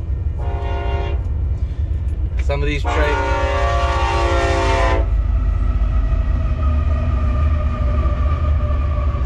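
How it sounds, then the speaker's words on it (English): A long freight train rumbles steadily past at close range near Quartzsite, Arizona, while its horn blasts twice, first briefly and then in a longer sustained blare, and a voice speaks briefly over the noise. "Oh, we got here just in time to catch the train."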